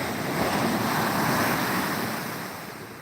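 Ocean surf washes continuously onto a sandy beach in Ghana, a broad steady roar of breaking water with wind buffeting the microphone, easing slightly toward the end.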